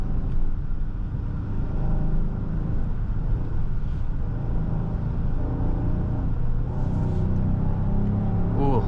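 A Genesis GV70 SUV accelerates up a highway entrance ramp, its engine a steady low rumble mixed with road and wind noise from inside the cabin, with no talking.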